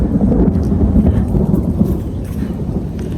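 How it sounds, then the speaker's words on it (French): Thunder from a storm lingering over mountains, a deep rolling rumble that swells and fades with some rain and wind noise, loud and close, no voices heard. "Là, vous entendez, l'orage est toujours pas parti."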